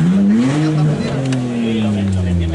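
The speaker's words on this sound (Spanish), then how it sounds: "Nos gustaría ver si podías encender el ruido del tubo de escape." A Lancia Delta engine revs up and holds, its exhaust note rising and falling up close from behind the car, with a voice speaking over it, at a classic and tuning car meet in Montjuïc.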